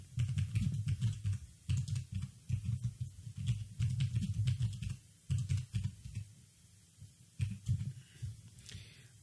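A password typed on a computer keyboard during a server setup: close, crisp key clicks in quick irregular bursts with short pauses, alone without speech.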